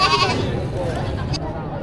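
A goat bleats loudly and close at hand, a wavering cry, while people talk over it.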